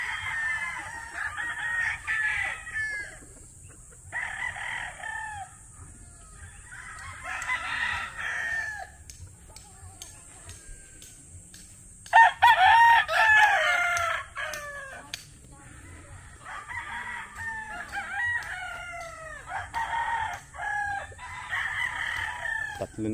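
Gamefowl roosters, including an SBR bull stag, crow repeatedly in a farmyard, with several loud, clear cock-a-doodle-doo calls spaced a few seconds apart and occasional softer clucks between them.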